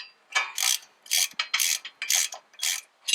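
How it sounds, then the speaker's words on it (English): Ratchet with a 21 mm socket tightening large brake bracket bolts on a 2005 Ford F250, short bursts of rapid clicking repeated about seven times, close and alone. "now I'm going to get my 21 mil, tighten these down"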